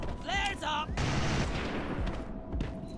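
A plant bursts apart in a video game, a burst of broad noise and rumble after a short stretch of tonal game sounds, fading into a rough, crackling tail.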